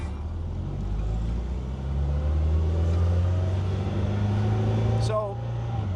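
A Porsche 356 engine with a muffler drones steadily from inside the car while driving, a low rumble that swells slightly, with people talking over it.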